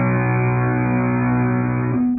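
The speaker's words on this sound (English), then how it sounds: "if we weren't touching the strings at all, it would sound like this" A distorted electric guitar power chord rings out unmuted, strings sustaining steadily at a loud, even level for about two seconds before the chord shifts slightly at the end.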